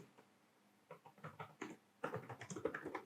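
Typing on a computer keyboard while filling in an account form, with soft irregular key taps that grow denser and louder in the second half, close and alone.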